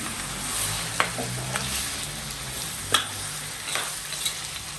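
Pork hock dropped into a pot of sizzling sautéed tomatoes for sinigang, giving a steady close frying hiss with a few sharp splatters and clatters scattered through it.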